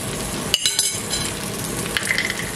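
Bulgur and vegetable patties sizzle loudly in a frying pan, a dense continuous crackle broken by a couple of utensil clinks as another patty goes in, heard close with no talk.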